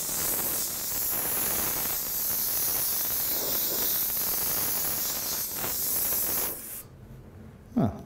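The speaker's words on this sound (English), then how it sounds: "Bring some of the depth back with that overspray." Airbrush spraying paint for a realistic fire effect, a steady close hiss of compressed air and atomized paint that stops abruptly, followed by a brief soft clunk.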